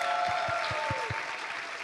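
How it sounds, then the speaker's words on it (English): An audience at a university opening ceremony applauds in a continuous, moderately loud wash of clapping to welcome a chairwoman, with a few low thumps near the start. "Applause, please."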